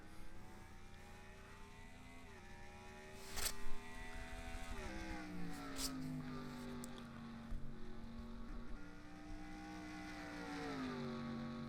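Race cars in a video game roll to the green flag at the Foxwoods 301 in New Hampshire, engines droning in layered tones that rise and shift as they accelerate together, steady and fairly loud.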